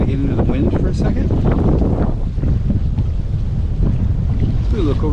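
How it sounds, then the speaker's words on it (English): Wind gusts across the microphone aboard a sailboat on a daysail off Mount Desert Island, Maine, with water noise beneath and someone talking over the steady rushing. "there's a nice breeze out here today"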